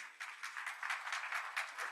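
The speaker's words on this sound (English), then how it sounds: "You know, I expected a louder applause." An audience at a healthcare summit and awards event claps to welcome a speaker to the podium, a faint, thin patter of scattered hands with no voices over it.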